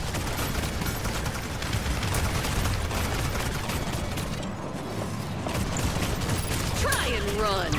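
Enemy gunfire in the online shooter Paladins, a steady dense crackle of shots and mechanical clatter running the whole time under a busy game mix, with voices and effects layered over it.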